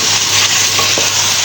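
Garlic ginger paste frying with onions in a karahi gives a continuous loud, bright sizzle with soft stirring scrapes throughout, close up and without talk.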